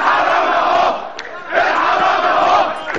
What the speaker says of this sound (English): Tanks rolled through the streets as thousands chanted for President Mubarak